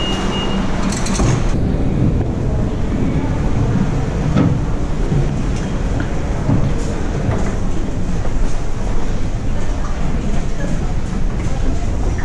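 Rumble of the free Staten Island train, a steady loud rattle and roar of rail cars rolling along the tracks, continuous throughout with some voices underneath.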